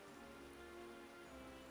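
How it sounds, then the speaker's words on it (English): Heavy rain pours down steadily as a sound effect in a narrated story, a dense, continuous hiss of a worsening downpour over a country road, moderately loud and unbroken. "The rain came down harder and harder"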